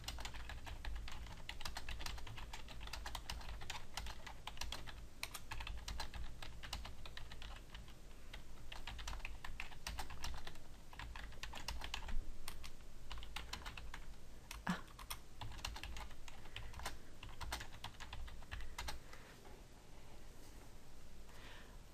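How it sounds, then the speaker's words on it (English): Steady typing on a computer keyboard while entering session feedback, a continuous patter of close, crisp key clicks at an even pace across the whole stretch with no voices. "So then you would just type in your feedback."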